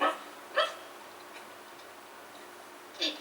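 Bumpy Dog, the cartoon dog from Noddy, gives short sharp barks: one at the start, another about half a second later, and a final bark near the end, over a quiet background.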